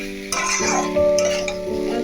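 Potato and papaya curry fries in a pan, a dense sizzle broken by scraping strokes of a spoon being stirred through it, close and fairly loud.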